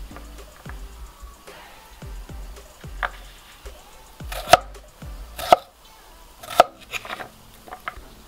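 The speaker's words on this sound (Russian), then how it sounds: "Нарезаю, как вы видите, на пластмассовой досочке." Knife chopping beetroot into cubes on a plastic board, a steady series of close dull thuds with a few sharper, louder knocks, no voices.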